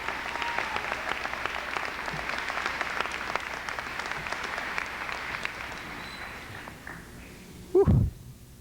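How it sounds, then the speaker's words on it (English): A large crowd at a 1998 North High graduation ceremony applauding the music department, sustained dense clapping that fades out toward the end before a brief low thump. "why don't we give a nice round of applause for Mr. Roger Fletcher and Mrs. Peg Sorensen"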